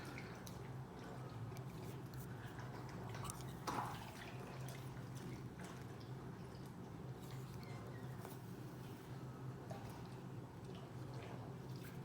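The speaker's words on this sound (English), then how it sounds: "having a swim in his water bowl. No, he's just drinking." Quiet, rapid lapping and dripping as a dog drinks from a water bowl, a continuous wet slurping rhythm heard faintly over a low background hum.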